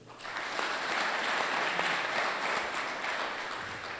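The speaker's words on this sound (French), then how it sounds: "le colonel Mohamed Moustapha Fall, que je vous demande d'applaudir" A crowd applauds at an integration ceremony for an incoming class at an engineering school, honoring a colonel as sponsor; an even, continuous patter of many hands that swells and holds steady.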